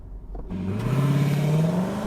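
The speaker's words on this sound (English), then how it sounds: "There is no launch control, I just floor the throttle." Lexus LC500 Convertible, a 2021 model in its sportiest mode, launched at full throttle from a standstill, its engine note climbing steadily and loudly in a single continuous rising pull with no talk over it.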